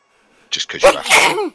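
A single sharp, close sneeze bursts out after a moment of quiet, with a person speaking right after it.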